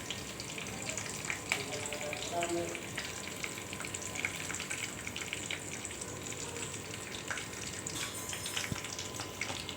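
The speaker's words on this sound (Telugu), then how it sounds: "చిట్పట్లాడుతున్నాయి, ఫేస్ మీదకి వస్తున్నాయి, అందుకని కొంచెం దూరం నుంచి వేస్తున్నాను." Cumin seeds and curry leaves splutter in hot oil for a tempering, a dense, continuous crackling sizzle with sharp pops scattered throughout, close and fairly loud, with no voices.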